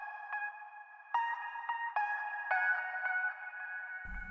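In a bass house or lofi mix, a pitched vocal chop in a sampler repeats as bright, tonal blips through heavy delay, with echoing repeats trailing each hit and a low thump entering at the very end.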